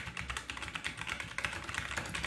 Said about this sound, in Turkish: Evet, klavye sesini duyuyor olmalısınız.